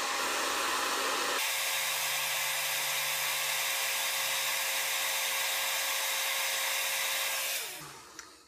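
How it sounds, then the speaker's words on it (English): A hand-held blow dryer runs on a cool, low setting to set fiber lash mascara, giving a steady, close whooshing airflow for about seven seconds before it switches off near the end. "You take your blow dryer."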